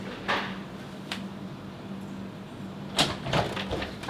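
A door, likely a sliding one, rattles and scrapes open in a few short bursts indoors, moderately close, with no talk.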